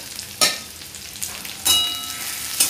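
Garlic frying in a pan for shepu bhaji, a close sizzle with a few sharp metallic scrapes of a spoon stirring it.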